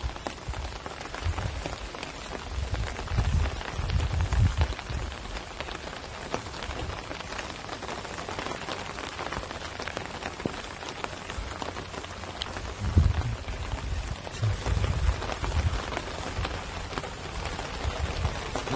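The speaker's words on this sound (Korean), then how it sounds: "또 이제 빗소리 싫어하시는 분도 계시겠네" Steady rain falls on a rural plot of land in the Korean countryside, a continuous hiss of drops on surfaces with occasional heavier patters and low rumbles nearby.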